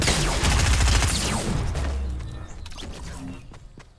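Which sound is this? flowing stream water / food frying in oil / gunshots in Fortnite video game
gunshots in Fortnite video game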